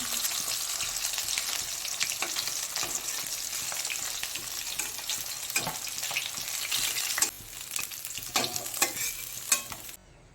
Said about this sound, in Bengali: মাছগুলোকে 2 মিনিটের মতো ভালো করে ভেজে নেব।